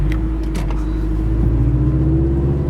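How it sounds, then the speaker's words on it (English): Toyota GT86 exhaust fitted with UEL headers, a low droning rumble with a rough, vibrating brap tone, steady and close with no speech. "Too much space and a lot of vibration from the UEL system makes the braps sound very bad."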